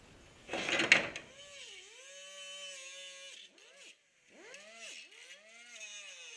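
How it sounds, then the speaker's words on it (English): An angle grinder cuts grill parts for an Audi Quattro Rally replica hood, its whining motor pitch sagging and recovering as it bites, cutting out briefly midway before spinning up again. "Let me get my grinder, and I'll start cutting this thing up."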